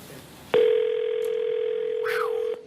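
A steady telephone dial tone starts abruptly and holds for about two seconds before cutting off, loud and close on a studio line, with a brief voice heard near its end.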